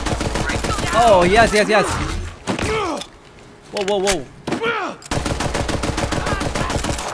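Rapid automatic gunfire from Borderlands 3 rattles in dense bursts, loud and close, pausing midway while someone talks and exclaims over the shooting.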